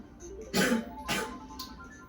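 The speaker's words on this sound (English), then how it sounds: "if you hear some coughing and all that, my bad" Two harsh coughs close by, followed by a softer third, over a quiet background.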